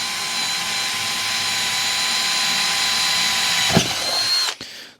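Bosch GSR 12V-15 FC cordless drill-driver drilling in second gear, a steady high whine running close and loud before winding down abruptly near the end.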